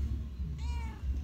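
A single drawn-out cat meow rises clearly over a low background rumble, lasting about half a second, close and moderately loud.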